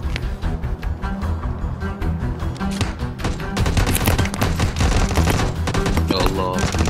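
Rapid automatic gunfire in PUBG Mobile, near a building: dense, rattling bursts of shots run throughout and grow louder in the second half, with players talking underneath.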